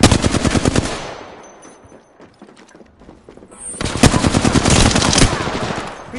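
Rapid machine gun fire in a combat video game, loud bursts of closely spaced shots that open the scene, fade into a quieter stretch with scattered rounds, then return as a sustained heavy volley.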